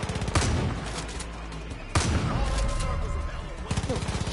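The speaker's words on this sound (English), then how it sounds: "Why are you shooting my cougar" Gunfire in Far Cry 5, with rapid bursts of automatic shots and sharp single cracks, loud and close, layered over game noise while a player talks over the action.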